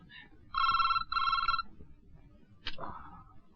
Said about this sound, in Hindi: इतनी रात का किसका फोन है?